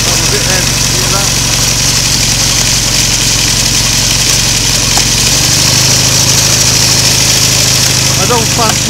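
A BSA A10 Super Rocket motorcycle engine idles steadily with its primary cover removed, giving a loud, close, continuous rumble with mechanical clatter and a slight change in tone partway through.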